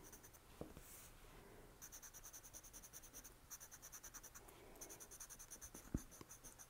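Colored pencil pressed fairly firmly on paper during a tangle drawing, a faint close scratching in quick repeated back-and-forth strokes with short pauses between bursts, no voices.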